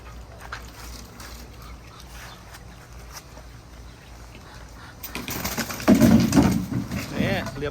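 Ducks quack loudly and flap nearby as they are caught, the noise rising sharply halfway through over a background of rustling and faint voices.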